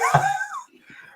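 A single sharp human sneeze bursts out close by, then fades into a few faint breathy sounds.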